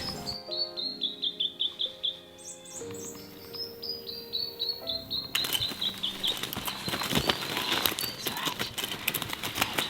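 A New Zealand robin chirps near a mealworm trap in the Manawatū, giving a clear series of quick, high, descending chirps. Other birds call nearby, and louder rustling and handling noise builds up in the second half.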